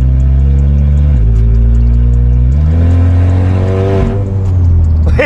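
A VW Scirocco R with AWD and a turbocharged engine revs loudly up close, its pitch rising and falling through several blips with a turbo whoosh over the deep engine drone, with no one talking.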